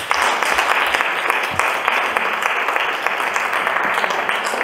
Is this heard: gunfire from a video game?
no